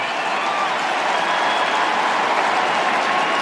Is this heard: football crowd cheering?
yes